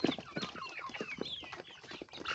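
Hybrid laying hens, a cross between Rhode Island Reds and a hybrid egg-laying breed, cluck and murmur steadily at close range in a busy, overlapping chorus without pause.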